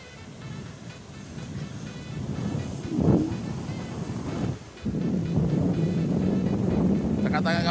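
Sea waves and wind roar steadily on Pantai Mek Mas beach in Kelantan, with a rushing surge near the middle and a low droning hum running under the surf toward the end.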